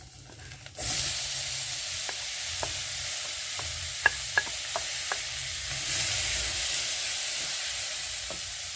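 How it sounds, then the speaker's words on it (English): Tomatoes for egg curry drop into a hot frying pan, setting off a sudden loud sizzle that continues as a steady hiss with scattered sharp pops and a few stirring clinks. "let me just add in my tomatoes because it's ready"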